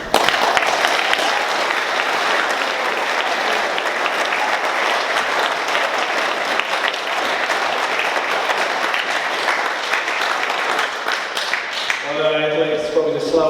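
An audience at a secondary school prizegiving applauds a New Zealand under-18 single sculls champion, steady sustained clapping filling the hall for over twelve seconds before fading into a voice at the end.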